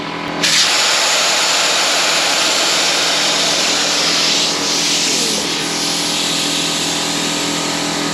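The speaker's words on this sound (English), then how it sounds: "Gonna put my air on. I'm gonna pump that up." An air pump forces compressed air into a Yamaha TW200 motorcycle tire with the valve core removed, producing a loud, steady rushing roar that starts abruptly and holds with little change.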